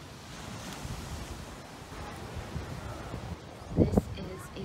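Surf washing onto Puka Beach in Boracay, Philippines, a soft continuous wash with wind noise on the microphone and a brief louder rush of water near the end.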